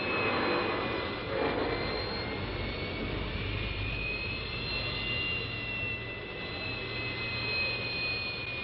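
A Dassault Mirage III jet takes off from the runway and climbs, a loud continuous jet-engine roar with a high whine that shifts slowly in pitch and holds steady throughout.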